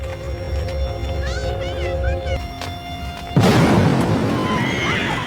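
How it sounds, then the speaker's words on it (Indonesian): A sudden loud blast bursts out after a stretch of low rumble and faint horse-like whinnies, followed by crackling debris and noise. "mendengar sebuah ledakan"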